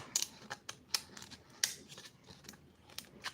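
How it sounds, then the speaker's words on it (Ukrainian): Scissors snipping through plastic cup lids to widen the holes, a handful of sharp, crisp clicks spaced irregularly, close and fairly quiet with no talking. "можна ось такими ножицями збільшити ось цей отвір"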